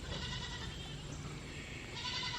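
Goats bleating faintly in an outdoor buck pen shaded by eastern cedar trees beside a barn, a couple of distant calls over a steady background hum.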